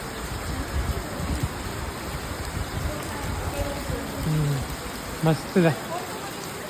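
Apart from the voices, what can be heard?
rain falling at a temple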